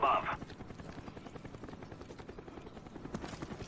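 Cobra attack helicopter in the Call of Duty Black Ops video game, a steady low rotor thump and drone running throughout, with a brief burst at the very start and game noise layered over it.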